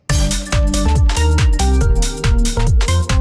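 A loud organ house drop plays, with pounding kick drums and a punchy Fairlight orchestral stab from Orbhits Hit landing on the beats, dense and driving for the whole stretch.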